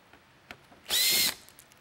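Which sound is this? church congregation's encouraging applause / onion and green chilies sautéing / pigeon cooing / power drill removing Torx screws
power drill removing Torx screws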